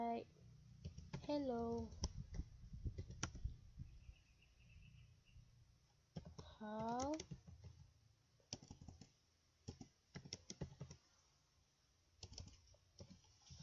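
Computer keyboard typing into a text field: quick runs of light plastic key clicks in short bursts, mixed with a person speaking over much of it.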